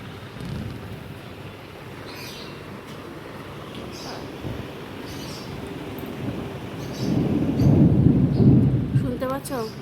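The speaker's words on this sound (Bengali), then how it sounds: "শুনতে পাচ্ছ? বা মেঘ ডাকছে।" Low thunder rumbling under steady rain, swelling into a heavier, louder roll near the end, with a faint voice briefly at the close.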